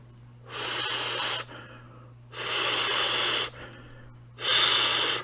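Three long, airy draws of breath rush through a vape RDA atomizer, each lasting about a second with brief pauses between, close and fairly loud.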